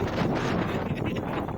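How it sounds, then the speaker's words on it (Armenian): Strong storm wind gusts lash the coast of the Kola Peninsula during a cyclone, a dense, steady roar of buffeting wind against the microphone with no voices. "Ծովափնյա շրջաններում քամու պոռթկումները հասնում էին փոթորկային մակարդակի։"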